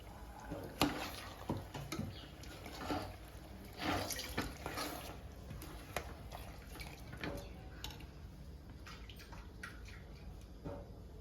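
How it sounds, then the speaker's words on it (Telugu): Water runs and splashes into a cooking pot of stuffed brinjal curry in uneven bursts, with clinks and small drips, close by and moderately loud. "ఇంకా కొన్ని వాటర్ అయితే పోసాయి"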